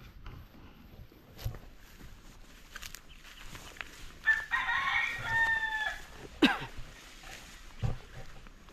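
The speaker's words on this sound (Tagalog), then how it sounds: "Kadaming manok." A rooster crows once at moderate distance amid soft outdoor background noise, with a few scattered faint clucks and thumps around it, on a lot being surveyed in the Philippines among many chickens.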